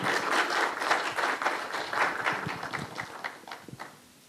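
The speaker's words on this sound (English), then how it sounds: "big hand of applause" Applause for the minister at an ICT ministry and Google partnership launch, a fairly quiet crowd clapping in uneven bursts that thin out and die away near the end.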